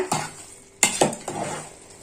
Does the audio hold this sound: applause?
no